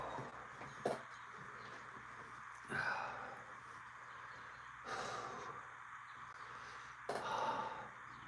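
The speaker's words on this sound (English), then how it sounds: "That's me panting from anxiety." A person panting from anxiety beside a Strat-O-Matic 1968 baseball tabletop game: a few faint, breathy bursts spaced a couple of seconds apart, close to the mic over a quiet background.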